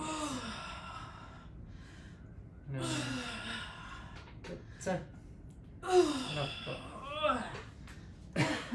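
Heavy gasping and forceful exhales come in bursts during a workout set, loud and close, mixed with a man counting reps aloud.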